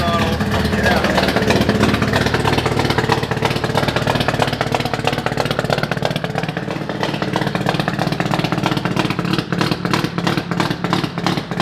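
The rotary engine of a Mazda FC RX7 idles steadily after startup, a loud, continuous buzzing rumble with a fast, even pulse, close by and running under intermittent talk.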